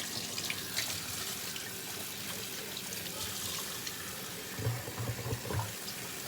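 Tap water runs steadily into a sink while hands are washed beneath it, giving a continuous close splashing with a few louder splashes and knocks toward the end.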